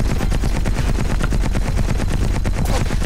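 Rapid automatic gunfire in the Battlefield Heroes video game rattles in a fast, continuous, loud stream of shots lasting about three seconds, close and dense, with no speech over it.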